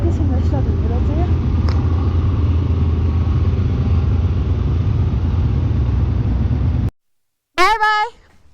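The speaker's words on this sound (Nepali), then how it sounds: "स्टार्ट भइरहेको छ तर यस्तो चिसो भयो नि बाइक चाहिँ एकैछिन स्टार्ट हुँदो रहेछ" A motorcycle engine rumbles steadily up close in cold, snowy conditions, a low continuous drone that cuts off abruptly near the end, followed by a brief burst of voice.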